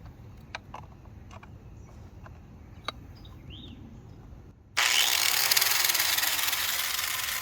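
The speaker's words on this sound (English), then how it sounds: "Try this little side grinder so we can test the power." Faint taps and rustles precede a small side grinder suddenly kicking on near the five-second mark, then running loud and steady with a bright, constant whir until the end, no voices.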